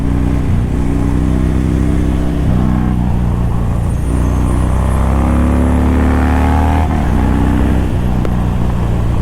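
A heavy Harley motorcycle engine revs while riding, loud and close, its throaty drone rising and falling through several throttle swells with wind rush, no voices.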